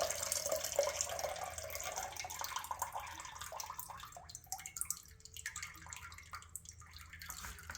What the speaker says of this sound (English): Put it down and let it dribble.